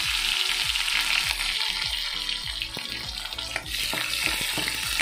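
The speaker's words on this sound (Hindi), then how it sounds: "फ्लेम हमारा हाई पर है, इसे हाई पर ही टॉस करेंगे।" Dal tadka is tossed and fried over a high flame, giving a loud, continuous sizzle with bursts of spattering and the rumbling clatter of the pan being moved.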